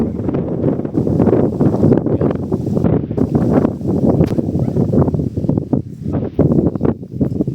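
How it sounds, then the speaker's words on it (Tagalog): Steady, loud wind buffeting a microphone outdoors on a hillside farm lot in Mabitac, Laguna, roaring and gusting without pause, with a faint rustle underneath. "Hangin lamang po."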